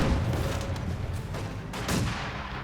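Mortar fire in Company of Heroes 2, a 1v1 match, with rumbling blasts and thuds layered over dense battlefield noise, moderately loud with no break.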